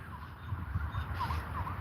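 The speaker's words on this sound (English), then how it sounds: "the sirens got me distracted" Faint wailing sirens sweep up and down in the distance over a low rumbling background, with no talking.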